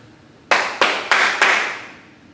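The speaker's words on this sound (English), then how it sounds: "Clapping, right?" Hands clapping four times in a quick, slightly uneven rhythm, each sharp clap ringing out briefly in a room, close and loud with no voices.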